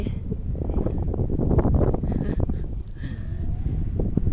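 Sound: strong wind on a hilltop on Sommarøy island, Norway

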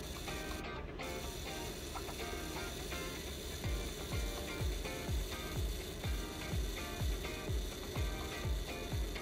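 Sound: Canonet camera self-timer mechanism running

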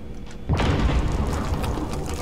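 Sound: airstrike explosion in video game Call of Duty Warzone

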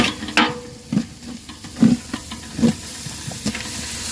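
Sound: stirring yogurt into chicken biryani marinade

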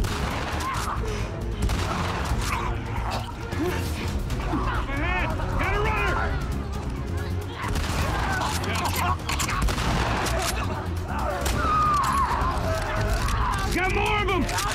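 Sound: gunfire in the video game The Last of Us Part II

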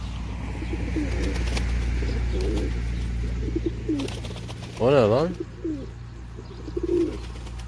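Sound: pigeon

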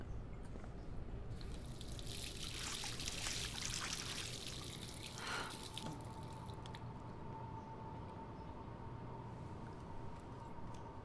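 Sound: water running from a faucet in Life is Strange video game

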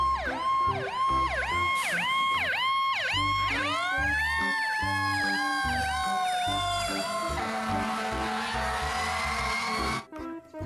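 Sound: toy fire truck siren

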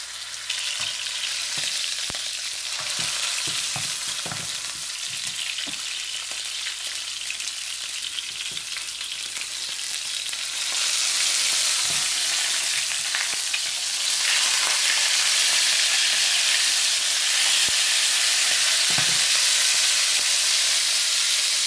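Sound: steak frying in a pan

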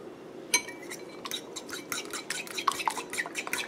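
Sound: mixing seasoned salt and cheese for chicken

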